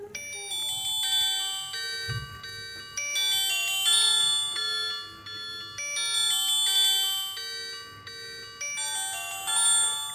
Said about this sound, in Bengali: আমি ফোনটির রিংটোনের যে সাউন্ডটা সেটা একটু চেক করব।